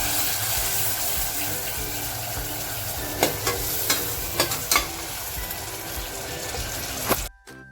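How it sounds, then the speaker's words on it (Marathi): Water added to sizzling ground masala for a Maharashtrian crab curry, a steady frying hiss with several sharp crackling bursts and stirring clatter, loud and close, with no talk, ending abruptly. "आता जे पाणी काढलं होतं ना ते टाकते म्हणजे मसाला जळणार नाही"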